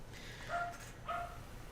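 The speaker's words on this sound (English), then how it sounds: "I love how there's a dog barking in the background as they both fight with each other." A pet dog barks quietly in the background of an indoor room, two short distant yips about half a second apart over faint low hum.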